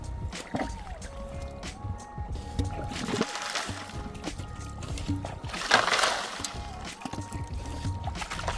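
A Yabby pump sucks up water and sand during gold prospecting, giving sloshing, gurgling splashes with a couple of louder surges of watery noise, close by and without talk.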